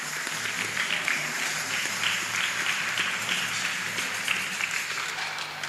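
A church congregation applauds at a Sunday service, a dense, steady wash of clapping from many hands in a reverberant hall with faint voices underneath.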